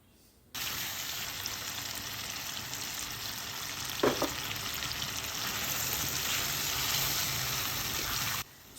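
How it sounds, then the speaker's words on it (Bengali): Fish sizzles with spices in a hot pan, a steady loud frying hiss from start to near the end with a brief clatter of stirring midway, and no talk. "এখন মশলা দিয়েও বেশ কিছুক্ষণ আমি কষিয়ে নেব"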